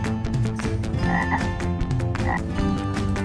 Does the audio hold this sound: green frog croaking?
yes